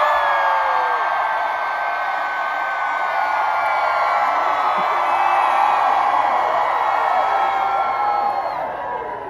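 A concert crowd at the Sleepless In tour stop in Atlanta screams and cheers in one sustained, loud roar that holds steady for the whole stretch and fades slightly at the end.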